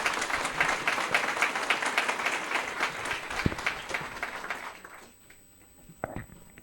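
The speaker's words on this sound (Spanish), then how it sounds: "Vamos a dar un aplauso al Señor, amén." A church congregation breaks into dense, sustained clapping that carries for about five seconds and then fades out, leaving near-quiet with a few stray claps at the end.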